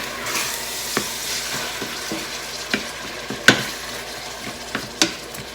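Three-bean chili is stirred in a pot under a constant low sizzle, a spoon scraping and clacking against the sides in irregular knocks, with a few sharper hits near the end.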